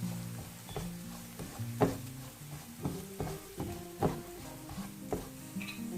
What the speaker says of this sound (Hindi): इन सबको अच्छे से मिक्स करेंगे।